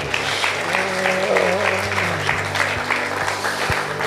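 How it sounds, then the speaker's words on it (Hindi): A congregation claps at a Christian prayer retreat centre in Ludhiana, a brisk, loud round of applause that continues throughout over a low sustained musical drone. "ताली बजाए, धन्यवाद।"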